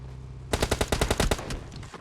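Enemy automatic gunfire in PUBG Mobile rattles out as a fast, evenly spaced burst of about a dozen sharp shots, loud and close, then trails off into a fading echo.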